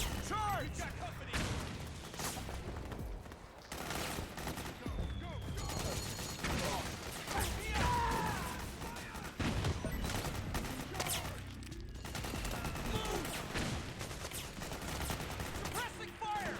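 Dense gunfire in the Metal Gear Solid 4 video game, rapid bursts and shots overlapping with booms and mechanical clatter, continuous and loud, with voices shouting among the battle noise.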